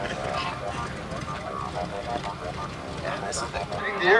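A jump aircraft passes over Cherry Capital Airport in Traverse City, Michigan, during the 1990 Stardust Air Show, its engine a steady, broad drone throughout, swelling slightly at the end, with faint crowd voices mixed in.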